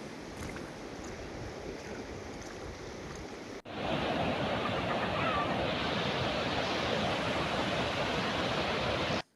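Floodwater from a rain-swollen river rushes over a road in a steady, loud, broadband roar that jumps sharply louder a few seconds in and stays constant until an abrupt stop.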